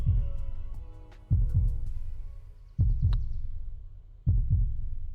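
A slow, steady heartbeat effect thumps in paired beats about every one and a half seconds during an eagle putt in the golf video game PGA 2K23, with faint game ambience beneath.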